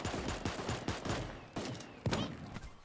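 Dual pistols firing in the video game Super Animal Royale: a rapid string of sharp, close shots that come in uneven bursts, with a heavier pair of cracks near the end.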